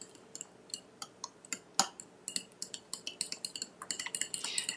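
Egg and mashed banana pancake batter mixed in a bowl, a quiet run of quick utensil taps and clinks against the bowl, speeding into a steady rhythmic stirring toward the end.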